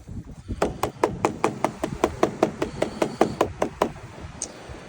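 A chocker hammer pounds cotton thread onto squid bait for surfcasting for snapper, with about sixteen steady, evenly spaced knocks close up and no talking.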